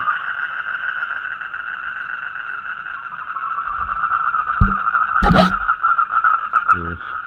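A steady, dense trilling chorus of toads at night, continuous and fairly loud, with a few brief knocks and rustles close by.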